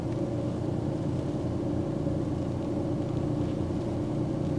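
Learner driver's car creeping forward slowly at low speed, a steady low engine rumble and road hum continuing unbroken throughout, with no talk.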